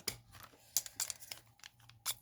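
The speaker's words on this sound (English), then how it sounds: "my big scissors" Quiet crisp cuts and crinkly paper-like snips of large scissors through card in a short irregular series, close by, with no talking.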